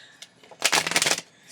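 A deck of tarot cards is shuffled close up, giving a quick flurry of riffling snaps that lasts about half a second after a few faint taps, with no talking.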